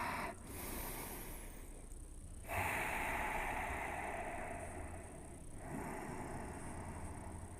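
Slow, audible breathing during a yoga stretch in a back-bend class, with long airy inhales and exhales in several drawn-out phases, close by and without speech.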